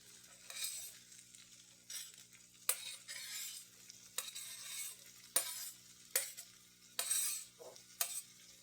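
Bitter gourd pieces fry in hot oil for a chutney, a quiet continuous sizzle broken by repeated bursts of stirring and scraping against the pan, with occasional light clinks and no talking.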